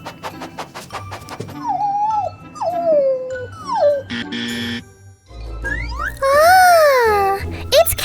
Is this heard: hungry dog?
yes